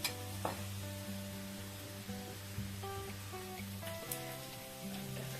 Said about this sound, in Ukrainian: Цибулька тушкується